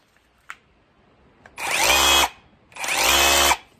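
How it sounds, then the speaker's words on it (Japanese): A KIMO hammer drill's motor whirs up in two loud bursts, each under a second long, with a faint click before each run. "これがハンマードリルね。"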